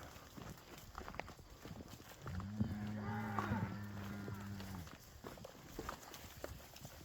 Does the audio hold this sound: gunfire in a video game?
no